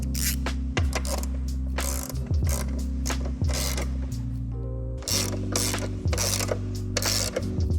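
A ratchet tightens bracket bolts on a Honda Rebel motorcycle during a LongRide Patriot Mini SK storage install, giving close, steady mechanical clicking in repeated bursts with brief pauses between strokes.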